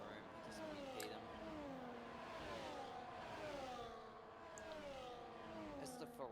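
A Ferrari race car engine in the Grand Prix Racing video game at Silverstone hums faintly with a rising and falling whine as it revs through corners, with other cars faintly audible around it.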